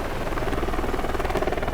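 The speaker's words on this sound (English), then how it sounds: "There's a helicopter." A helicopter in the video game Alpha Protocol beats its rotor in a fast, even chop that sits loud and close, steady throughout with no talk over it.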